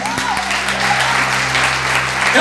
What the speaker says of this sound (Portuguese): Se você crê, aplauda Jesus.